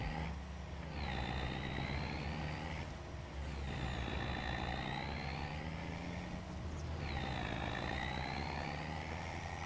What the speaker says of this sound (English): I like the sound of this truck.